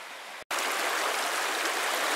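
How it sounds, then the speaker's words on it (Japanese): Mountain river on a Hokkaido hiking trail in the Hidaka range rushes in a steady broadband wash, loud and close, briefly cut by a split-second gap near the start. "左に川がありましたがここで渡るみたいですね"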